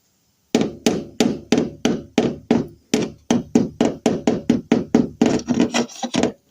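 Hammer blows chisel Bondo and paint off a 2024 Chinese Typhoon mini excavator: about twenty sharp, close knocks in a steady rhythm, quickening toward the end, with no talk.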